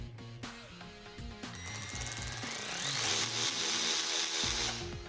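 A Ryobi One+ 18V cordless 3/8-inch ratchet wrench whirring close up, its motor starting and stopping in short bursts before settling into a longer, rising mechanical whine.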